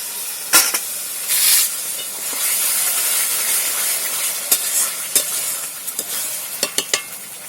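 Cooked-down spice paste for a jackfruit curry being stir-fried in a pan as garam masala mixed with water is added, a loud steady hiss and sizzle broken by sharp spoon knocks and scrapes against the pan.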